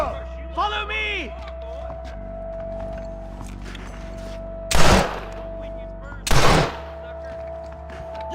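Gunfire in the Red Dead Redemption video game, two loud sharp blasts a little over a second apart, heard amid game ambience and a shouting voice.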